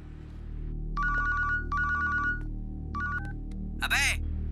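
A telephone ringtone sounds in repeated short bursts during a redial in a dubbed South Indian action film, fairly close and clear, with a brief voice near the end.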